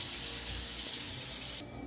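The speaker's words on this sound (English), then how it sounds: "Also gonna add in a cup of water to help with the steaming process." A cup of water pours into a cooking pan for steaming, a close, steady rushing hiss lasting under two seconds before it cuts off.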